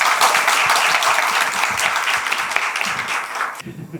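Audience at an English academy information session applauds warmly for the students, a full, continuous burst of clapping from many hands that tapers off at the end.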